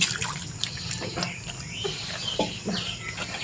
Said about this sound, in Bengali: আমি হচ্ছে জল ঢেলে দিচ্ছি এখানটায়